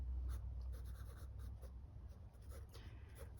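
Steady scratchy pencil strokes on paper, continuous and close, with short rhythmic bursts of sketching.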